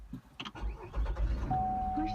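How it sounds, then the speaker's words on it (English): A 2017 Chevrolet Cruze with an exhaust camshaft position sensor circuit fault cranks briefly and catches quickly, settling into a steady idle close by, with a faint tonal whine over the running engine. "So now the vehicle starts very quick"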